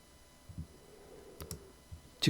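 A single key on a computer keyboard is pressed during Blender modelling work, giving a few quiet, close clicks with a sharper tap at the end.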